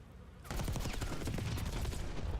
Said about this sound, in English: Shots there from Hook.